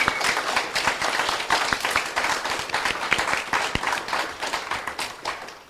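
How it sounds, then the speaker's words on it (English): Audience applause for panelists at a Hawaii LGBTQ+ book tour panel discussion, a room of dense, close clapping that gradually thins toward the end. "Everyone, please give a round of applause for our panelists and to yourself."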